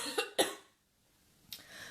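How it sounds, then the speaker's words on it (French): Two quick coughs close together, followed by a short pause and then a soft throat sound, with no talking. "je vais tousser"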